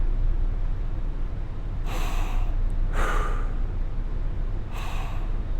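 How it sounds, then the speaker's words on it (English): Deep, slow recovery breaths from a calming breathing exercise, three long airy inhales or exhales spaced a second or two apart over a steady background hiss. "just calming everything down, just deep breathing"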